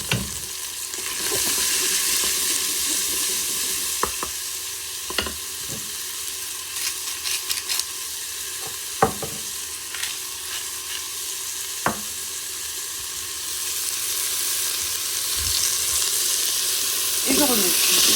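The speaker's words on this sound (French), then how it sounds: "Je vais les faire dorer 4-5 minutes" Onions sizzle and fry steadily in a pan, browning with salt and pepper, a continuous close crackle broken by occasional clinks and scrapes of stirring.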